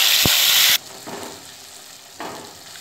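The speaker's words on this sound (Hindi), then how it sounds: "देखिए हमारा मसाला फ्राई हो रहा है" A paste of onion, garlic, ginger and cashew drops into hot oil with cumin, setting off a sudden loud hiss. The sizzle quickly settles to a quieter crackle and briefly swells again.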